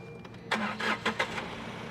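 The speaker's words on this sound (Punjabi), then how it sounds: "ਮੈਂ ਤੁਹਾਨੂੰ ਸਟਾਰਟ ਕਰਕੇ ਦਿਖਾ ਦਿੰਨਾ" A used car for sale in Ludhiana cranks over: a short whirring starter burst of several rapid pulses, then the engine catches into a quiet, smooth idle, close and alone without talk.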